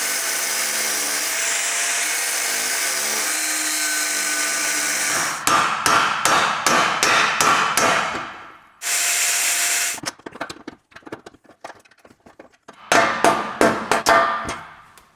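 An angle grinder cuts through a seized bolt on a Mercedes E55 AMG, a harsh loud whine broken into rapid bursts of grinding and stops, close up with no talk.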